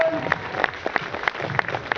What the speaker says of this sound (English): give him a round of applause, come on!